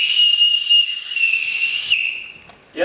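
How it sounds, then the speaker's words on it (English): A loud, sustained high-pitched whistle blast held for about two seconds as a signal in a live stage musical, then cut off, followed by a brief shorter sound. "Everyone in this house answers to a whistle."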